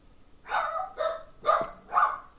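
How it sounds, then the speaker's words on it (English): Dogs bark indoors: four sharp, loud barks spaced roughly half a second apart, close by, with no talking. "Damn dogs."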